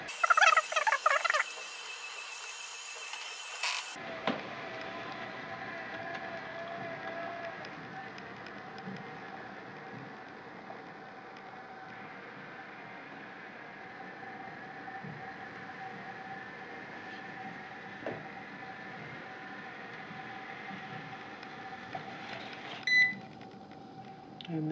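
A robot vacuum cleaner heads back to its charging dock, giving a brief beep at the start and then a steady, quiet motor whir that runs on for a long stretch, with small clicks near the end.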